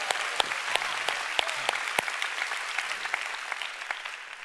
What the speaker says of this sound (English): Guys who want to clap, give the Lord a big hand.